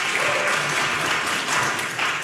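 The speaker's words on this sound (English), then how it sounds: "he deserves a round of applause." Audience applause at a Tennessee Republican primary candidate forum, a steady, dense wash of clapping held at an even level throughout the short stretch.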